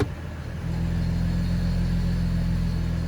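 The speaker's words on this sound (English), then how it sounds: "And then you hear the noise. Of course, it gets louder when it goes into drive." A Chevy TrailBlazer 4.2 inline-six idles with a low, steady engine rumble that grows noticeably louder and heavier as it is shifted into drive, then holds a constant droning hum; no one speaks.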